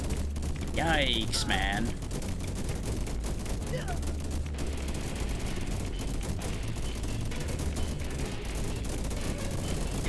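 Rapid, steady fire from a bank of automated turrets gunning down an enemy swarm in Deep Among the Swarm, a continuous rattling barrage. Someone speaks briefly at the start over it.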